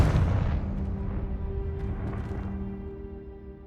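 A Confringo fire spell explodes in Hogwarts Legacy, a heavy booming blast with a low rumbling tail that slowly fades over a few seconds, heard alone.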